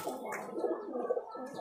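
A pair of roller pigeons, a male and a female, coo in a low, rolling, soft murmur close by, with a light chirp-like overtone and no voices.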